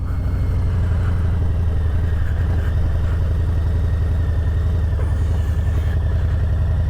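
A motorcycle engine runs steadily and close by in second gear as the bike gets going, a continuous mid-pitched drone that holds at an even level throughout with no speech over it.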